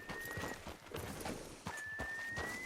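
A horse in the video game Red Dead Redemption 2 gives a high whinny with steady hoof clip-clops beneath it, fairly close and loud with a busy game background.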